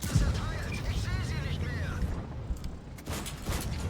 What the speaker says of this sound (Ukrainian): з якою затримкою гармата стріляє